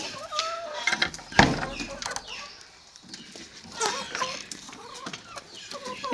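Hens let out of a rooftop coop cluck softly while feeding, with scattered pecking, scuffling and a sharp knock, fairly close and low-level throughout.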